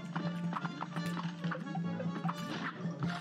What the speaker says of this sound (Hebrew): זה הסוס!